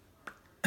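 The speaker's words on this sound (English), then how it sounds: "Smack your lips and then cough." A single short, sharp cough given on request during a clinical motor speech examination, preceded by a faint lip smack, close and fairly loud with quiet room tone around it.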